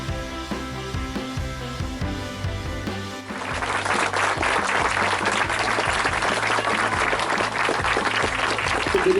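Music plays at first, then loud applause breaks out and carries on steadily as a family is welcomed into their newly built home in Sotaquirá.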